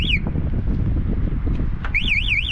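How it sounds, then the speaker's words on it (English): Anti-theft alarm on a Luckeep X1 electric bike, a loud warbling electronic siren that chirps briefly, drops out, then returns in rising and falling sweeps over a noisy outdoor background. "We hit the alarm."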